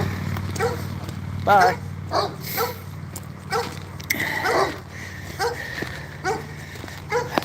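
Several dogs behind a fence bark and yip repeatedly beside a railway track, close by. Their barks and some whimpering come in bursts, mixed with someone talking.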